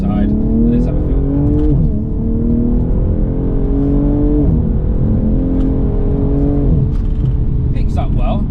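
A BMW G42 M240i accelerates in sport mode along slippery back roads in England, its engine note climbing steadily through several gear changes, with the hum loud and continuous and a voice speaking over it.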